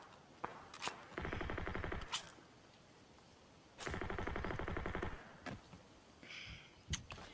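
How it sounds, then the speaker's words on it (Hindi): Bursts of automatic gunfire in the PUBG Mobile video game arrive as two sustained rapid rattles, with scattered single sharp shots before, between and after them. "अब देखिए आपको फायरिंग की साउंड आ रही होंगी"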